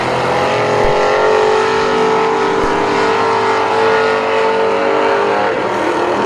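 Dirt track race cars on the final lap at a Saturday program thunder past loudly, engines roaring continuously with steady droning revs and no break in the noise.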